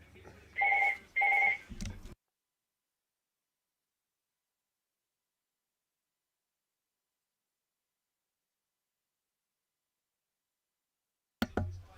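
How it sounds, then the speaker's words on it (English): An old-style telephone rings twice in quick bursts near the start during a rugby match watch-along, then long silence before a short knock-like sound at the end. "Yeah, you gotta love the old phone call."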